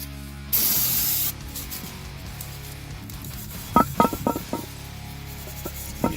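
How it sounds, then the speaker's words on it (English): Brake parts cleaner sprayed onto an engine part during a top-end rebuild of a 2005 Grand Prix 3800 L26, a single close, sharp hiss lasting under a second, followed by light taps and handling clicks. "You can use some brake parts cleaner. Just kind of spray it on there."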